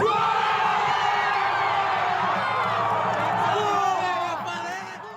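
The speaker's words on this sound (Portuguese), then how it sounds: "A torcida vai ao intervalo comemorando a vantagem parcial." A large football stadium crowd in São Paulo state roars and cheers a goal continuously, with scattered whoops and shouts rising above the din before it begins to fade at the end.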